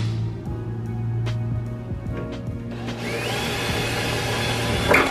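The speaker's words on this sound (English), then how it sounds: "Well, the holes are drilled." A power drill bores holes through a car body for an S281 spoiler installation, giving a steady, close mechanical whine over a low hum that rises in pitch partway through.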